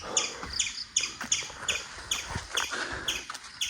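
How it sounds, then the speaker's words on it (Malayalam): A wild bird chirping outdoors on a rocky hillside near a cave: short sharp chirps repeat in a quick, fairly regular rhythm for several seconds, clear and moderately close, with faint background noise and no talking. "ഏതോ ഒരു കിളി ചിലയ്ക്കുന്നു."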